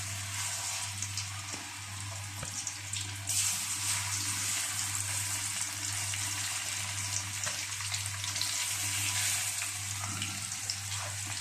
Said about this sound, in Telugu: చూడండి స్లో ఫ్లేమ్లో వేయించుకుంటాం